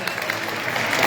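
Crowd at an outdoor folk festival applauding a band, a dense wash of clapping that holds steady and grows slightly louder, no voices on top.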